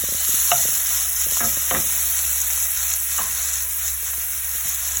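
Onions and green onion sizzle in hot oil in a pan, a steady close frying hiss broken by a few scraping stirs of a utensil, with no voices.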